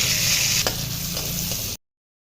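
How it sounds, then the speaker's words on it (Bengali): Shelled shrimp frying in mustard oil in a wok, a loud, dense sizzle with one sharp tap of a utensil, lasting under two seconds before cutting to silence. "কড়াইয়ে পরিমাণ মতো সর্ষের তেল দিয়ে দেবো বেছে রাখা চিংড়ি মাছ।"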